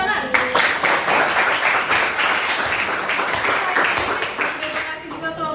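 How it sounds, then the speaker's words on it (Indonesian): Classroom applause as students clap for a group after its presentation, a dense, steady patter of many hands filling the room throughout, close and fairly loud. "Tepuk tangan."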